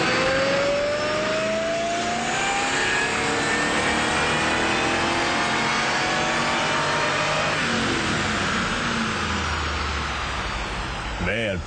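A 2003 Mustang Cobra on a dyno, the engine revving loud and steady through a long, rising pull that holds the whole way.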